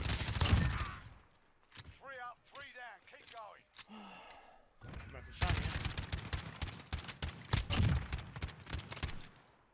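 Submachine gun fire in a Call of Duty match comes in dense rapid bursts, loud and close, with breaths and gasps between volleys and game sounds around it.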